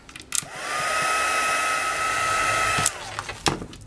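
A heat tool drying watercolor on a stencilled holly Christmas card comes on with a click and blows a steady, close, loud whirring hum for about two and a half seconds. It then winds down, followed by a few light taps and knocks.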